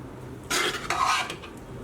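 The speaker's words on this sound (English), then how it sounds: "all we're going to do is spoon our meat mixture straight in" A spoon scoops a meat mixture for cottage pie into a baking dish, giving a short, close burst of soft scraping and a wet plop lasting under a second, with quiet all around.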